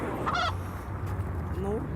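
Chicken held by a woman during a street interview, giving a couple of short honking squawks close by, one early and one near the end, over low street background noise.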